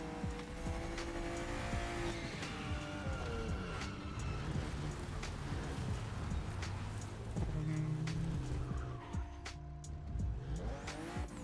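A loud car rumbles at a motor festival, its engine roaring steadily throughout with a brief tire squeal, over dense crowd and event noise.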